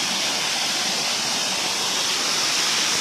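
Water falls steadily from above at a temple site, a continuous broadband rush like a waterfall, loud and close with no pauses for the whole stretch.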